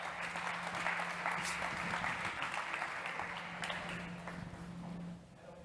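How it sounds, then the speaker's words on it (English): An audience at a startup competition applauds as a robotics company CEO is welcomed to the stage, sustained even clapping from a large room that tapers off near the end. "Big applause to Ángel."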